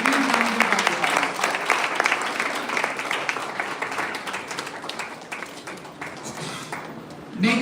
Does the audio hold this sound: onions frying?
no